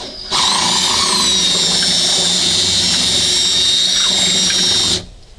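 A power tool whines loudly and steadily for about five seconds while bevelling a small hole in the fiberglass hull of a Boston Whaler 13, with a high pitched tone under a rough grinding hiss, then stops abruptly.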